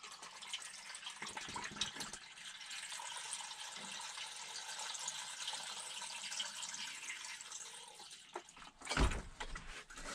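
Stop bath of white vinegar diluted one to eight with water pours steadily into a black-and-white film developing tank, a continuous close splashing gush for several seconds before a brief clunk near the end.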